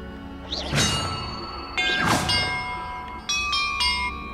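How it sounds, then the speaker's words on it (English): Metal bells struck one at a time in a Hogwarts Legacy puzzle, three clear ringing tones each ringing out with a long shimmering decay, with no talk over them. "Perhaps the map contains clues about the order I'm supposed to ring the bells in."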